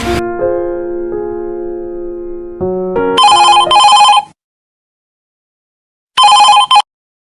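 A telephone rings with an incoming call: a sustained chime-like tone steps up in pitch, then two loud bursts of electronic trilling ring out, a short silence follows, and one more trilling ring sounds, with no voices.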